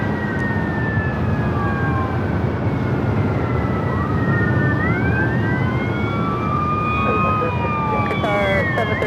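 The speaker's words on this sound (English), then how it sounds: "Got a lot of sirens heading down Sepulveda." Several emergency vehicle sirens wail down Sepulveda near LAX, their rising and falling tones overlapping over steady traffic rumble and carrying on throughout.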